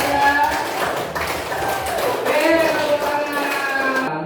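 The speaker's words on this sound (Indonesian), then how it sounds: "Oke, tepuk tangan untuk dia." A room full of people applauds a speaker during a collaborative-inquiry training session, dense steady clapping running throughout with voices calling out over it.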